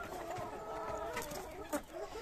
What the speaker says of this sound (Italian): l'unica gallina che mi fa l'uovo